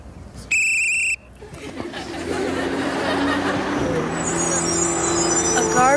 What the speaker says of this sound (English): A garbage truck?